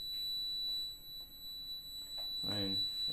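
An SLE 5000 neonate ventilator alarm sounds as a steady, piercing high-pitched tone that holds without pause, with a brief voice speaking near the end.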